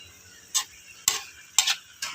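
Banana blossom adobo being stirred in a pan: four short, separate scraping strokes at a loose, even pace, each a quick hissy swish against the pan surface with quiet gaps between.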